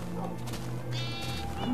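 Sheep bleating in Minecraft: a short, near, nasal bleat rising near the end over a low steady game background, with a voice talking faintly.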